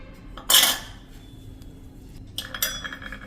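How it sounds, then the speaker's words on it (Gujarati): A metal spoon clinks and scrapes in a bowl as spices are mixed into dry semolina, with a sharp burst of clatter early on and a second run of clinks near the end, heard up close with no talking. "અને હવે આ બધો મસાલો આપણે મિક્સ કરી લેશું"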